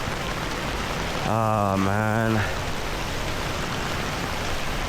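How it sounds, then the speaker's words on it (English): Heavy rain pours down at an elephant sanctuary in Chiang Mai, Thailand, a steady dense hiss filling the whole stretch, while a person briefly exclaims partway through. "right now the rain is so bad, like you're just kind of caught up in the rain."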